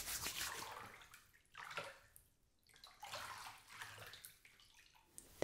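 Warm water pouring and splashing while hair is rinsed, in uneven swells of running water with brief pauses and gurgles, fairly quiet and close with no speech.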